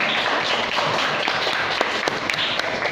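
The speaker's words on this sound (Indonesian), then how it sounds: "Oke, silakan beri tepuk tangan." A classroom full of students claps together in a brief, dense burst of applause, loud and close, with no speech over it.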